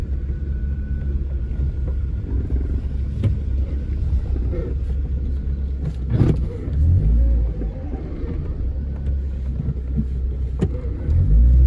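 A car rumbles along at a steady low pitch, with wind buffeting the microphone and a brief louder thump midway.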